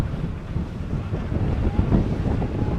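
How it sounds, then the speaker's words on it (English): Low, blustery wind roar buffets the microphone steadily near the Statue of Liberty in New York City, a dull rumbling whoosh with no other clear sounds. "Ooh, it's windy."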